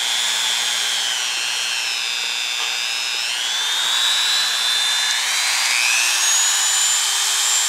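Large motor-driven buffing wheel spinning with rouge against AR-15 trigger parts, a loud steady whine that rises and falls in pitch as the metal is pressed in, close and continuous without speech.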